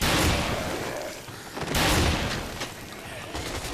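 Shotgun blasts in Dead Rising, heavy booming shots in quick succession with a noisy wash of action between them, loud and close, the strongest bursts near the start and just before the two-second mark.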